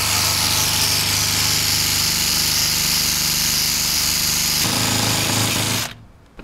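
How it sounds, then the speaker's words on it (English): A power sander grinds paint off a bus body, a loud continuous buzzing roar with a shift in tone partway through, cutting off near the end. "I've gotta sand away the paint, at least up to these screws here."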